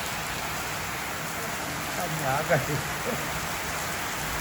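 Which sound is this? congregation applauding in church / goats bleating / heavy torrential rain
heavy torrential rain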